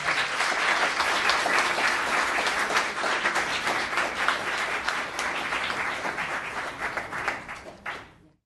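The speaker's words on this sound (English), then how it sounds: "Let's give them a round of applause." A room full of people at a Los Gatos town council meeting applauding steadily, loud and sustained, then tapering off and stopping near the end.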